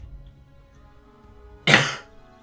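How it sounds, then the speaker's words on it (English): A man getting over a cold gives one short, close cough that turns into throat clearing, a sudden loud burst in an otherwise quiet room. "sorry for the coughing and kind of weird voice"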